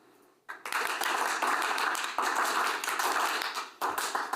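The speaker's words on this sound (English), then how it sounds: "that 3-beat clap 3 times, ba-ba-ba, ba-ba-ba, ba-ba-ba, and then 1 big clap" A group at a school district board meeting clapping together after a quiet start, a dense stretch of many hands with a few accented surges, ending in a fresh burst of claps, loud and near.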